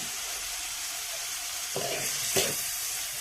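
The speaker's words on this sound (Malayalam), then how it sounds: "അപ്പം ഈ മല്ലിപ്പൊടിയുടെയൊക്കെ ഒന്ന് പച്ചമണം മാറണ വരെ ഇതൊന്ന് ഫ്രൈ ചെയ്യാം" Coriander powder masala frying in a pan for a tomato curry, a soft, steady hiss with two brief stirring scrapes partway through.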